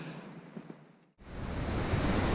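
Water of Madeline Creek rushes in a broad, constant roar, cut off briefly midway, then returns louder and fuller; no speech.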